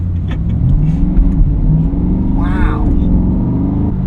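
A C8 Corvette accelerating hard, its engine a loud, sustained low rumble heard from inside the car, with a rising pitch partway through as it pulls. Someone exclaims briefly over the engine.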